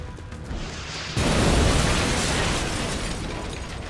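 A sudden loud car explosion in the video game XCOM: Enemy Within bursts in, followed by a sustained roaring rumble that slowly fades, with no talking.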